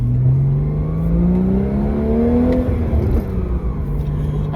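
Porsche 981 fitted with a Becker S type exhaust, engine revving up in a smooth rising sweep then settling back, recorded close, a clean and fairly restrained tone heard alone.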